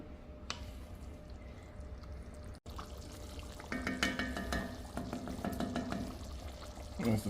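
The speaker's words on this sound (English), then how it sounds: "So I'm just bringing this up to a boil" Pork carnitas broth heats in a pot toward a boil, a soft bubbling and simmering hiss that thickens and grows busier midway, with brief clinks near the end.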